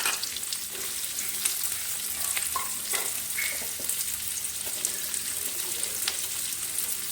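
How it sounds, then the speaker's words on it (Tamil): Chopped ginger, garlic, onion and dried red chilli sauté in a hot pan, a steady close sizzle running throughout with occasional soft scrapes and stirs. "2 பச்சை மிளகா எல்லாம் ஆட் பண்ணி நல்லா வணக்கி விட்டுருங்க"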